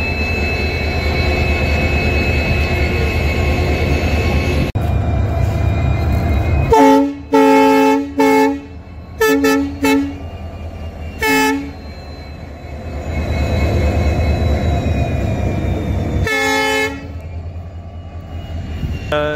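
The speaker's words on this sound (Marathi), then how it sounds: "तर मित्रांनो आता ही ट्रेन निघाली आहे" A train rumbles steadily as it pulls away from Vighanwadi station on a railway safety inspection test run, with a series of loud, choppy horn blasts in the middle and another horn burst near the end.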